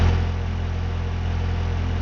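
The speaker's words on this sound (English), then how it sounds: "you can hear the fans have gone on" Engine cooling fans running steadily in fail-safe mode, captured close up in an automotive training setup as a continuous near whir with a low engine-like hum and no speech.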